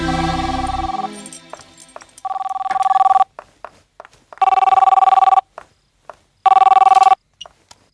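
In a film scene, a telephone rings in several loud, evenly spaced bursts with short silent gaps, following a louder tonal ring at the opening.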